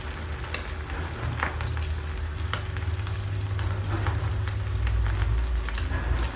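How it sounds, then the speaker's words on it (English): Breaded fish deep frying in hot oil gives a close, continuous bubbling sizzle with frequent crackles and a low rumble underneath, steady and fairly loud with no voices. "Now we put in the flour, after in egg, in a crumbled bread, and we deep fry it."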